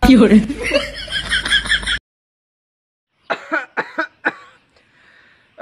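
A few short coughs follow someone speaking, then a quiet pause before a burst of close, sharp coughing.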